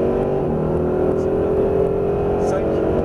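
A Mercedes SLS AMG on a racing circuit held at full throttle, giving a steady, loud, continuous engine drone that stays nearly level throughout, with a voice talking over it.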